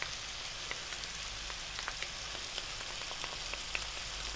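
Tomato paste frying in a pan over medium heat for a Middle Eastern lamb stew, giving a steady, close broadband sizzle with scattered small pops and crackles throughout, no talking.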